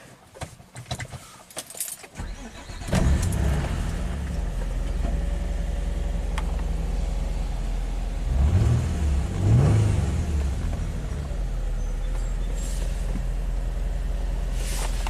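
Keys jangle, then a Nissan car engine with a misfire problem cranks and catches, settling into a steady idle with a couple of revs rising and falling, close by.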